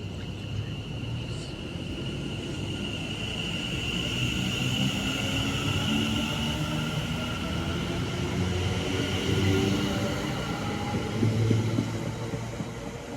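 An Avanti West Coast train passes through a North Western Railway station, a steady broad rumble with a sustained high tone that swells slightly and holds for about thirteen seconds, with no speech.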